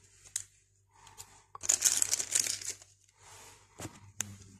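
Coffee mix packet torn open by hand, with a short burst of crinkling plastic and ripping in the middle and a few faint rustles and sharp crackles before and after, close and quiet with no talk.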